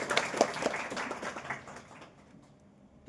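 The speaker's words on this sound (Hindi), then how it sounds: "ताली बजाओ" Audience applause in a large hall at an Art of Living session, a burst of scattered clapping that swells briefly and then thins out and fades over a few seconds, with faint murmuring underneath.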